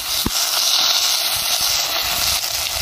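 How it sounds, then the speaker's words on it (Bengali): Chopped carrots and potatoes drop into hot oil in a pan for a vegetarian flattened-rice pulao, setting off a sharp click and then a loud, steady hiss of sizzling that continues throughout. "এবার আমি ওই তেলেতেই দিয়ে দেবো কুচিয়ে রাখা গাজর আর কুচিয়ে রাখা আলুগুলো।"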